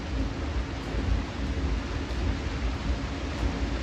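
Low, steady rumbling of an intermittent hot spring in Grand Teton National Park, a broad continuous roar with deep surging pulses, heard alone at close range with no voices.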